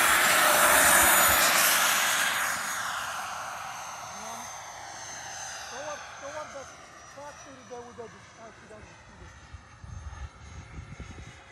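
A Freewing F-4D Phantom electric model jet passing overhead with a loud rushing ducted-fan whine that sweeps and fades as it moves away, faint chirps in the background.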